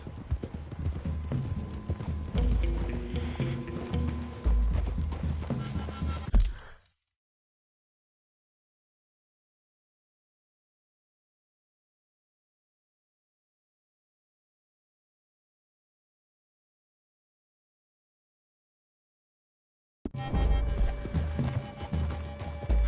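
Horses move through trees in a video game, their hooves clip-clopping steadily at a walk amid ambient game sound. The sound cuts out to complete silence for about fourteen seconds, then resumes.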